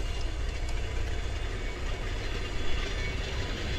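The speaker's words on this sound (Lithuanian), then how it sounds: "jau traukinys juda" A passenger train pulls out of Šiauliai railway station in Lithuania, a steady low rumble of wheels and engine heard from the platform, fairly faint and continuous without any voices.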